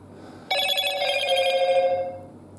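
Connection chime from a Victrola 6-in-1 music centre speaker pairing over Bluetooth, a bright ringing tone that starts abruptly, holds for about a second and a half, then fades, heard clearly through the sound system.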